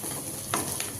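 Chopped onion fries in a pan with a steady soft sizzle, broken by a few brief scraping stirs, close and fairly quiet, without speech.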